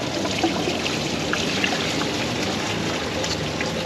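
Coolant from a Chevy Equinox 3.6L water pump trickles steadily into a drain pan below, a continuous splashing stream that stays even and unbroken throughout.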